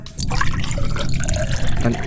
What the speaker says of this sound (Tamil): தண்ணி ஊத்துறாப்பல இப்பதான்.